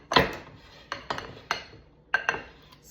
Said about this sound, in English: cutting the cold butter into the flour